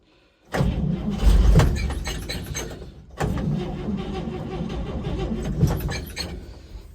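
A 1956 Chevrolet 235 engine cranks with the gas pedal partly pressed, two long bursts of loud, churning starter grinding separated by a short pause, with a brief kick of firing but no steady run.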